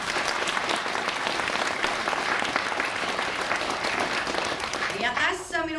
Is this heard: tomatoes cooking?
no